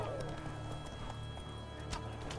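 Horse hooves clip-clopping in Witcher 3: Blood and Wine, quiet rhythmic hoofbeats under steady game background noise, with no clear speech.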